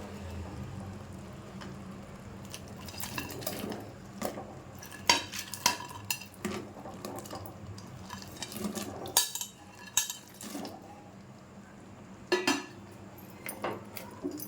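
A spoon scrapes and clinks against a pan while chicken is stirred into a thickened sauce, with irregular soft knocks and light metallic taps over a quiet kitchen background, no talking.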